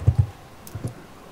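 Several quick keyboard key presses heard through a Skype call, a pair of dull thumping clicks followed by another pair, close and muffled.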